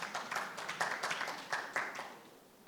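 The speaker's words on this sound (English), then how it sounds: "I thought you'd clap more for that." A small audience offers brief, scattered applause at a Teach For Uganda fellows celebration: a handful of faint, distinct claps that come and go rather than building into a full round.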